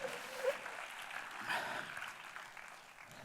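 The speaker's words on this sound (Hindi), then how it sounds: "बात में दम तो ताली जरूर बजाते रहिए।" Faint, distant audience applause at a Hindi motivational talk on steps to success, a soft, steady patter of many hands lasting a few seconds with no voices over it.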